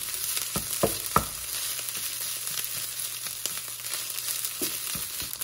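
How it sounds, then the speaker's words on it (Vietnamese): Fried rice with mixed vegetables is stir-fried in a hot pan: a steady close sizzle of oil with several sharp scraping and tossing knocks from the spatula, and no one talking. "Giờ mình sẽ cho hết cái hỗn hợp rau củ này vào. Rồi, đảo đều lên tiếp."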